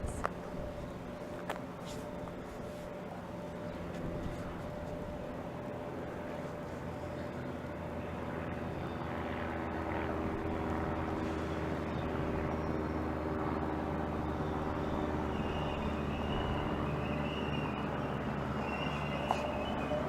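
A train pulls away from Gillingham station with a low, steady engine rumble that grows louder and fuller as it departs, heard from the platform, with a few faint clanks early on.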